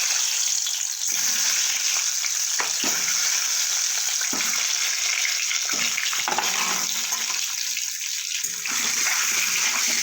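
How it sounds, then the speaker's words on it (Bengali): Boiled eggs fry in hot oil left from frying potatoes for a Bengali-style egg curry, giving a constant hissing sizzle with occasional soft knocks and shifts as they are turned. "এবার ওই তেলে আমি ডিমগুলো ভেজে নেব।"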